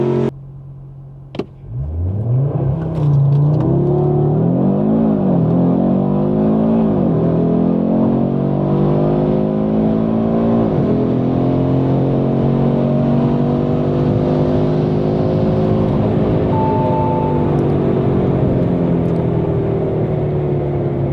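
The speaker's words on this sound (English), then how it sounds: "the car definitely leaves off the line a lot quicker with the traction completely off" A stock Audi RS3 8Y engine roars up through rising revs as it launches hard off a drag strip line with traction control off, loud and close, with the pitch climbing steadily over a long sustained run.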